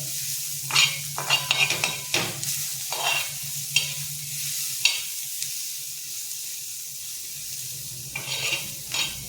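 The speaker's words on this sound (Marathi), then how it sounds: "ह्याला आणखीन पाच मिनटं जरा हा मसाला वगैरे सगळं लागेपर्यंत अशीच परतायची आहे" Dry-roasted bitter gourd (karela) pieces coated in masala are stirred in a pan, with a soft sizzle underneath and a run of close scraping, clattering spatula strokes that come in bursts, then pause, then return near the end.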